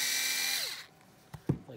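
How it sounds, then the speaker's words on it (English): A power drill bores through a hole guided by a drilling jig while a battery mount for a TLR 22 RC car is being fitted, whining steadily and close, then stopping, followed by two short knocks. "You then take your drill bit and drill through the hole here in the thing."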